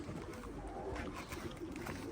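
Pigeons in a coop coo softly and continuously close by, their low burbling calls blending into a murmuring backdrop.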